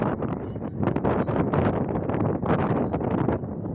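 Wind buffets a microphone outdoors at a village festival site, a loud, continuous rumbling roar with gusty surges throughout and no speech over it.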